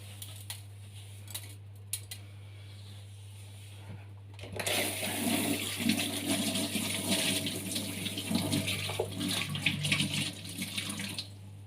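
In a kitchen, a tap is turned on about midway while dishes are washed, and water gushes steadily into the sink over a low constant hum, close and unbroken with no talking.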